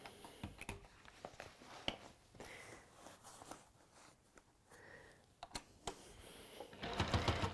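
A sewing machine running a long basting stitch to tack two fabric edges together, short quiet bursts of stitching with clicks and handling noises in between, fairly faint, no talking.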